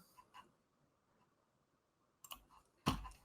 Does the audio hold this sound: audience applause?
no